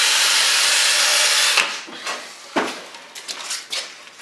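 A wire brush scrubs black paint out of the groove of a car's rain guard during restoration of Al Capone's car: a steady, loud scratching that runs unbroken for over a second, then breaks into separate short, sharp strokes.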